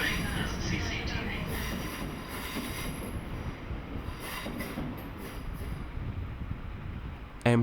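A train runs steadily with a continuous broadband rumble and wheel noise throughout, interior or close by, with a brief louder knock at the very end.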